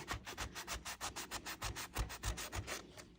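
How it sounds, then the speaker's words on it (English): Sandpaper rubbed by hand along a thrifted wooden furniture edge, quick rhythmic back-and-forth scratchy strokes, about seven per second, close and fairly quiet, with no voice. "I'm about to rub my sandpaper raw"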